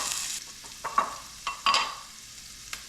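Onions and garlic hit hot olive oil and butter in a pan, giving a soft steady sizzle broken by a few sharp clinks of a utensil stirring against the pan.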